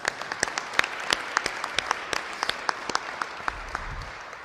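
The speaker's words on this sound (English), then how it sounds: "So another round of applause for Secretary Osmond and his team." A small gathering at a state infrastructure announcement claps for a state secretary and his team, with sparse, distinct individual claps at a moderate distance rather than a dense ovation.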